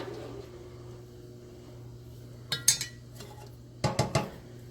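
Metal utensil scraping and clinking against a cookie sheet while food for enchiladas is spread out, two short bursts of clatter over a quiet low hum, no voices.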